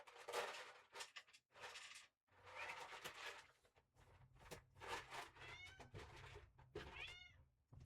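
A hungry house cat meows repeatedly up close, a run of drawn-out, rising cries with brief pauses, loud and clear with little else around.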